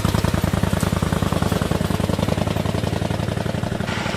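A vintage GN car's engine runs loud and close at the Prescott hill climb, a rapid, rough, uneven drumming as if firing on one cylinder, steady throughout with a brief shift near the end.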